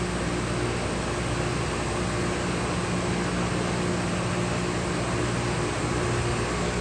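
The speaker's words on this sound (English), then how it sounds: "See here, those vacuum forming machines also do this." A vacuum forming machine heats a plastic sheet, giving off a steady, even mechanical hum with a constant broadband hiss and low tonal drone that holds unchanged throughout, with no one talking.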